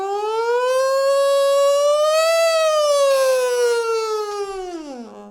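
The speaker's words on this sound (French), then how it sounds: "il y a eu une sorte de sirène de pompier mélangée au fameux bzzz" A singer's voice glides up and down like a fire-engine siren while a sheet of paper held against the lips buzzes, part of a vocal resonance exercise. The tone is loud, steady and rich in buzzing overtones, rising gently, then dropping at the end.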